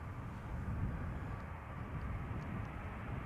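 A British Airways airliner arriving from London Heathrow at Schiphol Airport makes a steady, distant jet roar that stays even throughout, with no voices.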